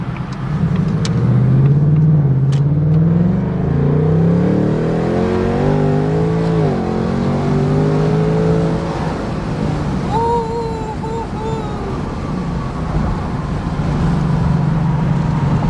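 A 2024 Ford Mustang fitted with a Steeda H-pipe exhaust revs and drones steadily, its deep engine note rising and falling under continuous wind and road rush, fairly loud throughout.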